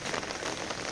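Monsoon rain pouring steadily near the Ganga at Triveni Ghat in Rishikesh, a dense close hiss of drops on surfaces, loud and unbroken, with no voices.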